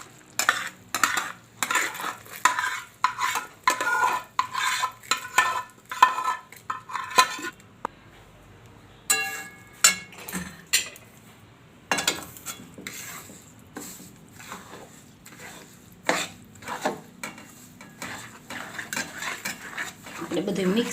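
A spoon stirs a thick adadiya pak mixture with mawa in a pan, making repeated close scraping and clinking strokes against the metal in quick bursts, with a short pause midway.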